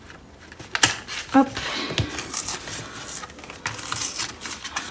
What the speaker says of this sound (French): Heureusement j'ai des ciseaux.